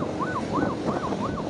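An ambulance siren wails in a steady rising-and-falling cycle, about four sweeps in quick succession, heard moderately loud over road traffic noise on a rural district road in Indonesia.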